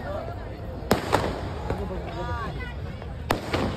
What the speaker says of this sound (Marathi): इथं सुद्धा फटाक्यांची आतिषबाजी